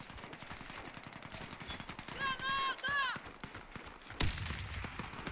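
Rapid video game gunfire rattles in quick bursts, with a brief electronic warble partway through and a sharper blast near the end.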